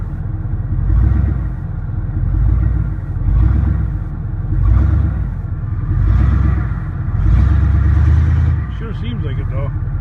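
A car engine revs up and settles again with the gas pedal pressed, five or six rhythmic swells of rumbling close by, with people talking over it.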